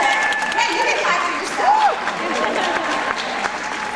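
A career conference audience applauds briefly, with scattered clapping and crowd noise under someone speaking over it, moderately loud and close.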